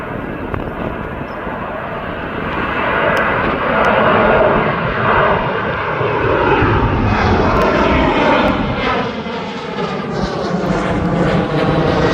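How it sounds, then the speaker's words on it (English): A TUI airliner passes at East Midlands Airport, its engine roar loud and sustained throughout, swelling slightly as it goes by with a broad rumbling wash and no voices over it. "And here comes that TUI."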